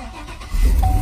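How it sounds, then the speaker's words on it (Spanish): A 2015 Chevrolet Silverado that had trouble starting catches and fires up: after a moment of quiet, a deep engine rumble kicks in and settles into a steady idle, close by. "Y ahí está el carro prendido."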